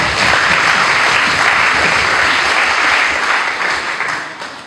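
Congregation applauding in a church service, a dense, steady wash of clapping that stays loud throughout before easing slightly toward the end.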